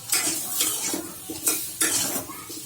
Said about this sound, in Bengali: এখন আবার একটু ভেজে নিই স্বাদটা বাড়ার জন্য